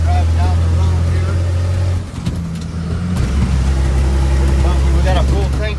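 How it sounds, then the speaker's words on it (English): A Ford F700 truck carrying a full tank of water drives down the road, its engine giving a loud, deep rumble that shifts pitch partway through as it changes gear, with someone talking over it. "we're driving down the road here"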